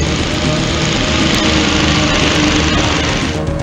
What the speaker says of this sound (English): The Lawnmower Man is now chasing you.